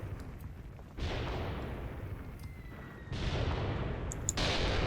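Artillery guns fire in the Graviteam Tactics war game, heavy booming blasts that surge in at about one second and again at three seconds into a dense, sustained rumble, loud and broadband, with no talking over it.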